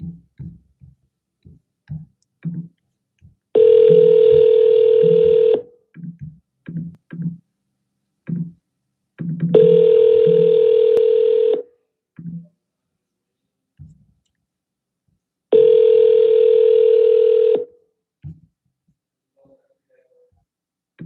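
A telephone line placing a call to a Zillow for-sale-by-owner seller rings three times, each long tone about two seconds, with gaps between. Soft clicks and faint tapping fill the pauses.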